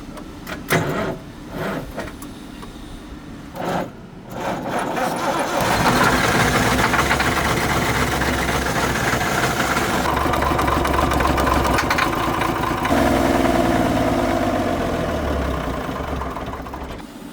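An AEC Routemaster London bus diesel engine cranks with a few coughs and then catches, settling into a loud, close, rumbling idle whose tone shifts slightly as it runs.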